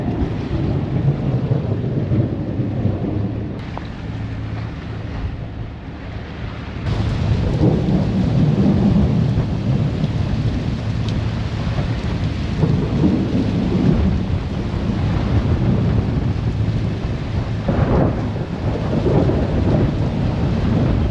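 A night thunderstorm at sea in the Strait of Malacca brings heavy rain drumming steadily, with deep rolling thunder swelling loudly partway through and rumbling on under the downpour.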